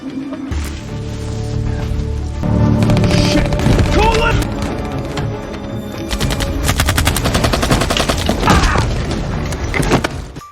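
Heavy gunfire from a film firefight, with dense machine-gun bursts and single shots over a roaring, booming backdrop, loud and continuous throughout, with scattered shouted voices mixed in.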